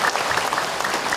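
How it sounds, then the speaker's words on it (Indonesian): Audience applause at an Islamic lecture for married couples, a dense, steady roar of many hands clapping throughout, fairly loud and close with no pauses. "Tepuk tangan buat ibu-ibu yang sabar"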